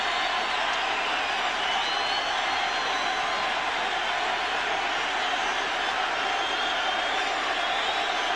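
A baseball crowd at Yankee Stadium fills the air with a constant, even murmur and hum of voices, steady and unbroken in the background.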